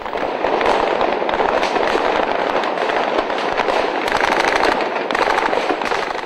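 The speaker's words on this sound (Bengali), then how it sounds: "থেমে থেমে গুলি আর ব্রাশ ফায়ারের শব্দে কেঁপে ওঠে পুরো এলাকা।" Sustained bursts of automatic gunfire during the Pilkhana BDR headquarters mutiny rattle loud and dense, with rapid overlapping shots that pause briefly and then resume through the whole stretch.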